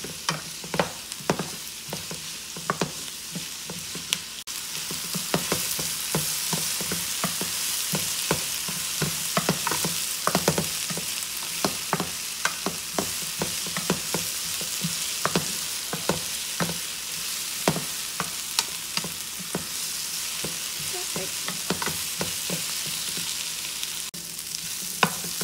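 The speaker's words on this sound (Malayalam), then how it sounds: "എണ്ണ ഒഴിച്ച ഉടനെ ആദ്യം ഇഞ്ചി വെളുത്തുള്ളി ഇടാഞ്ഞത് അത് പെട്ടെന്ന് അങ്ങ് കരിഞ്ഞു പോകും" Sliced onions fry in hot oil in a pan, a steady close sizzle broken by frequent clicks and pops of stirring, with no voices.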